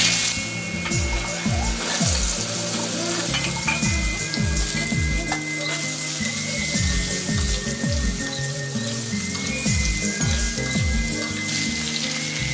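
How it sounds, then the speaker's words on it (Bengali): Pointed gourd (potol) pieces frying in hot oil with a pinch of turmeric, for a fish curry: a steady, bright, close sizzle and crackle throughout, with repeated low knocking thumps at a regular pace and no talk. "পটলগুলো ভাজা হোক"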